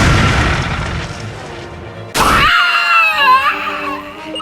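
Draco Breaker attack in the video game Manamon 2: a quiet stretch, then one sudden loud crashing blast that gives way to a ringing, wailing tail of synthesized effects.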